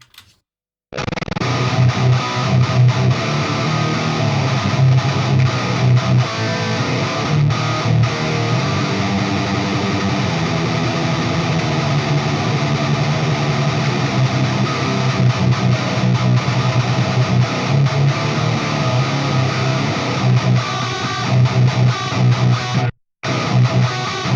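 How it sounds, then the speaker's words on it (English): Heavily distorted high-gain metal electric guitar with parallel Rat distortion through a Fractal Axe-Fx III, thick and saturated, cutting out abruptly near the end before a brief return. "if we add the parallel rat distortion, this is what we're getting."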